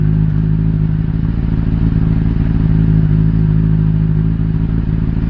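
A 2018 Honda CBR600RR with a Yoshimura RS5 slip-on exhaust and its catalytic converter removed idles close by, a steady, deep, throaty engine drone with a constant low rumble throughout.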